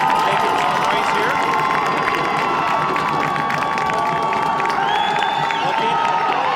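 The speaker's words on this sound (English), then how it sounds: "Crowd is getting into it, making some noise here." Spectators at a Ripon College football game against Augustana cheer and shout, a loud sustained crowd roar with whoops, under an announcer's voice and a faint sustained tone.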